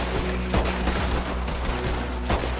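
Rapid gunfire from a Red Dead Redemption 2 bank-robbery shootout, a dense fusillade of overlapping shots with louder bursts near the half-second and end, loud and continuous over a steady game backdrop.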